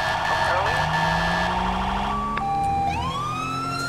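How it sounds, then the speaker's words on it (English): A Code 3 Mastercom B police siren in the video game GTA5 wails loud and steady, then switches to a faster rising yelp near the end, with no other sounds. "I did change the siren."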